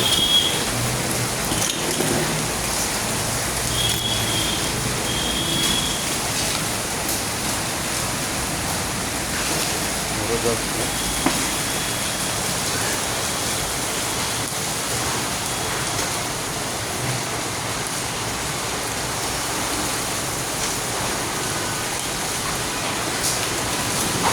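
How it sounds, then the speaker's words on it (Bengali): Heavy rain and hail pour down steadily over Dhaka, a dense continuous roar of drops on surfaces with wind, loud and unbroken throughout with no voices. "ঢাকা প্রচুর পরিমাণে শিলাবৃষ্টি হচ্ছে, প্রচুর পরিমাণে"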